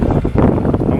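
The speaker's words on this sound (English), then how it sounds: "we cop a bit extra wind" Wind gusting across a sailboat moving past bays off St Lucia, a steady low roar buffeting the microphone with short swells in strength, with no voices.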